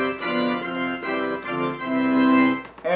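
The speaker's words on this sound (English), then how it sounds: "5 is one of the pipe organ sounds." Pipe organ voice from a Roland digital accordion, sustained reedy chords changing a few times, full and close with a sharp cutoff at the end and no speech.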